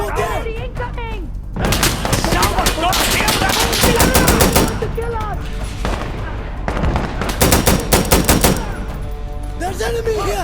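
Heavy, sustained automatic gunfire in Insurgency: Sandstorm, with AK-47 bursts and dense rapid volleys that are loud and close, broken by short pauses, while voices shout over the shooting.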